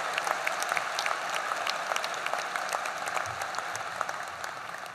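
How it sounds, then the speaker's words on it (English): Steady applause from a university commencement crowd, even and sustained throughout with no break. "Let's give them one of many rounds of applause."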